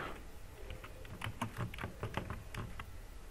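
Close typing on a computer keyboard as the words ID card are entered into a search field, a short burst of soft key taps at moderate level with a faint background hum.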